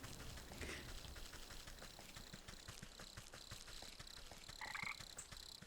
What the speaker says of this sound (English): if there is a frog down there, I need to catch it because, like, seriously, frogs are hard to get